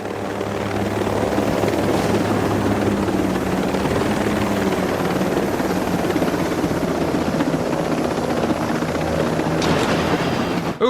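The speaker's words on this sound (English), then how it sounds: "My propellers hit a tree." A helicopter in the video game Ghost Recon Breakpoint flies low as its propellers strike a tree, giving a loud, continuous rotor and engine drone that holds steady throughout, close-up and without talk.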